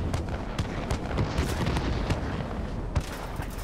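Bomb and rocket explosions from the World of Warplanes video game, flying a Me 109: a dense run of booms and sharp blasts, several stacked close together over steady engine rumble, with no talk.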